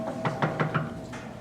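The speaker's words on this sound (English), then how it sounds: "a man named Fred Ross knocked on Cesar Chavez's front door." Four evenly spaced knocks rap on a front door, close and moderately loud, followed by a brief quiet tail with a faint tonal hum beneath.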